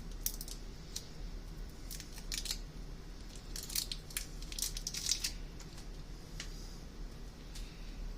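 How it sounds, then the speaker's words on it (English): Potatoes being peeled by hand, heard as faint, quick scraping strokes that come in irregular bursts over a quiet kitchen background with no talking. "peel and wash my potatoes"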